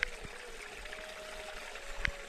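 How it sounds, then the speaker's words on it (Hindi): Natural groundwater spring trickling beside the Rudranath mountain trek, a faint continuous watery flow with small splashes and no voices. "भूजल का शुद्ध प्राकृतिक स्रोत।"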